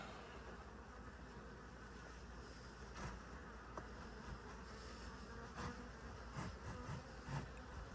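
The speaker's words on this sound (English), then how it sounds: "Go right past all the bees and they'll get out of the way." Bees buzzing around a hive during a formic acid treatment: a steady, faint, dense drone of many insects close by, with occasional louder passes.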